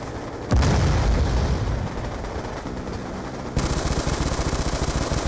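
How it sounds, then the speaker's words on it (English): Video game gunfire and booming explosions from the Black Ops II campaign mission FOB Spectre, rapid and loud, one heavy blast near the start and a steady rattling burst of automatic fire toward the end. "I shot a rocket at that thing and it didn't die"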